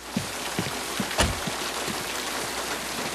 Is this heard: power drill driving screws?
no